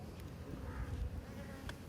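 A steady insect hum of many honeybees buzzing together around a hive, soft and continuous, with no voices.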